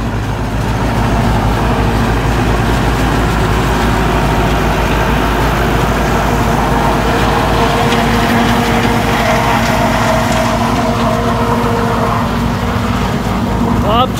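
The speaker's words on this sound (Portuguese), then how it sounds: "Trator aí, pessoal." Massey Ferguson 4292 tractor engine running steadily during corn silage harvesting with a forage harvester, a loud continuous low drone throughout with no pauses.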